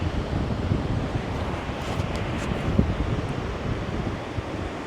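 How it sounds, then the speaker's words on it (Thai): Sea waves at Pattaya beach at low tide, heard from above: a steady, broad wash of surf mixed with wind buffeting the microphone, no voices. "มองไปเห็นหาดพัทยาทั้งหาดเลยนะ ตอนนี้เหมือนน้ำจะลงอะ่ะ"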